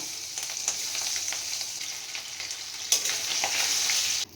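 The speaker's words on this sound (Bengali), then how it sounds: "ইলিশ মাছগুলোকে আমি ভেজে নেব" Hilsa fish pieces frying in hot oil, a continuous bright sizzle with crackling spatters and a brief louder burst, no voices.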